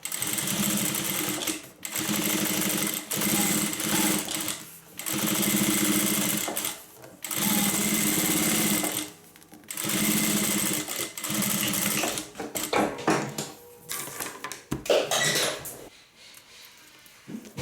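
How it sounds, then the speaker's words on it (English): Sewing machine back stitching along a fabric strap, running in several long loud bursts with short pauses between them, then a few brief stop-start runs and clicks at the end. "Now the other side will be much easier. Back stitch."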